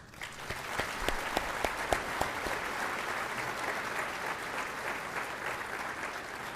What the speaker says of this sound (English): won't you join me in thanking the many volunteers with a round of applause?